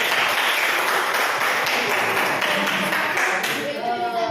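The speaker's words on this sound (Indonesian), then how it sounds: "berikan aplaus untuk mereka" A classroom full of students applauds a student group, loud, dense clapping close by that carries on steadily and starts to thin out near the end, with voices mixed in.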